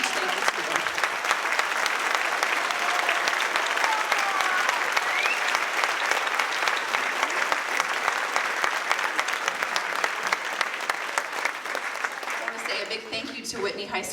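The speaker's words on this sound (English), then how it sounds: "could you please go ahead and stand so we can clap for you one more time" A concert audience at an honor band performance claps steadily for the band directors, a long, full round of applause with scattered voices mixed in, thinning to a few claps and murmurs at the end.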